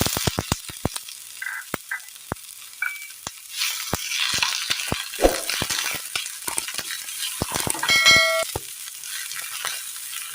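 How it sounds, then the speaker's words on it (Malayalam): Chopped tomatoes sautéed with softened onions in a pan: sharp spoon taps and scrapes come in a quick run at first, then a denser sizzle and stirring that swells toward the end, close and unvoiced. "നന്നായി ഒന്ന് വഴറ്റിയെടുക്കാം"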